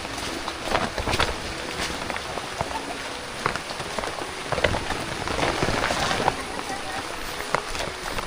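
Rain falling steadily on surfaces during the rainy season, a continuous close patter with scattered louder drop hits throughout and no talk over it.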